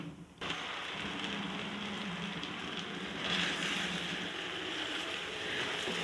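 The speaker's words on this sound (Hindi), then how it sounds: "और देखिए बस कितने मज़ेदार तरीके से चिकन भून रही है" Chicken frying in a pan for a gravy recipe, giving a steady broadband sizzle and crackle that continues without letting up, with no talking over it.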